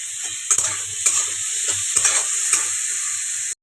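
Salt, turmeric and spices sautéed in a hot pan, a loud steady sizzle with several sharp stirring scrapes at regular intervals, close up and without voices.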